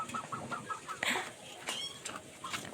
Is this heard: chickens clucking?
yes